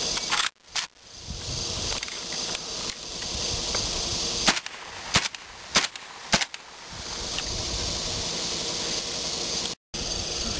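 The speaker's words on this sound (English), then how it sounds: "This is the Less Than Lethal 12 gauge based on the AK-47." Less-than-lethal rounds fired from a magazine-fed Saiga 12 gauge shotgun built on the AK-47 pattern, several sharp cracking shots spaced a second or so apart, loud and close over outdoor background noise.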